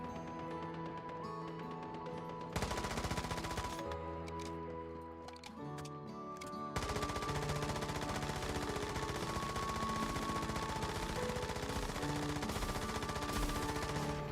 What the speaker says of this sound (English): Apparently my auto turrets took out one for me.